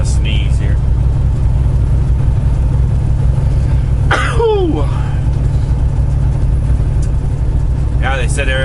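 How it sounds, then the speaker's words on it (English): A single sharp sneeze bursts out midway, loud and close, over a steady low engine and road rumble inside a moving vehicle. "I gotta sneeze here."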